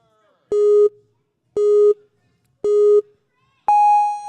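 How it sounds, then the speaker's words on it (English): Competition start buzzer at a UNAA Regionals ninja event: three identical short electronic beeps at even one-second intervals, then a longer, higher-pitched final tone, loud and clean. "We got to get that buzzer started first."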